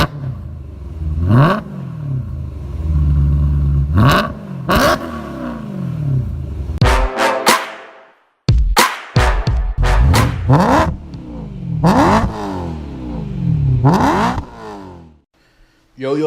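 Supercharged BMW M3 with a Remus race exhaust revving hard in sharp repeated bursts, each rev climbing and dropping quickly with brief gaps between them, loud and close, with a few idle stretches.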